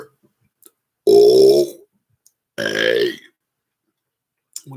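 Two loud, deliberate burps a second or so apart, each a deep, voiced belch held for about half a second, with near silence around them.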